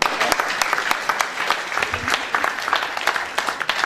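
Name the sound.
audience applauding at a film festival opening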